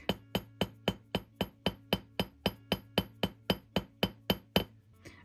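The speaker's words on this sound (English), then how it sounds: "I'm hammering right now at 3 and 9 o'clock" Small hammer tapping a metal cicada necklace piece, a steady run of about eighteen bright, ringing metallic strikes at an even rhythm, close and clear with no talking.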